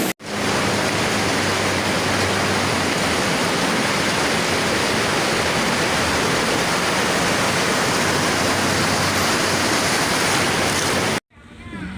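Floodwater in Banda Aceh, a loud, steady rushing roar that runs almost unbroken before cutting off abruptly near the end.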